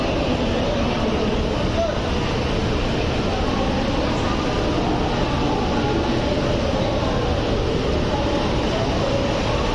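A train stands at a platform at Chennai Central during heavy rain, giving a dense, steady, loud roar with no breaks and no clear voices.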